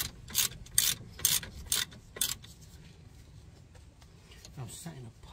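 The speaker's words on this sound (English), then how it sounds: "Get your ratchet." Ratchet loosening a brake caliper bolt on a Ford Mondeo Mk4 during a front brake change outdoors: about five quick, bright clicking bursts close by, then quieter rustling and a faint final click.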